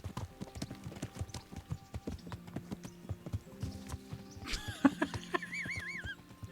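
Horse hooves clip-clopping on a road in the medieval video game Kingdom Come: Deliverance, a steady rhythmic trot of hoofbeats with a horse whinny and other game sounds rising near the end.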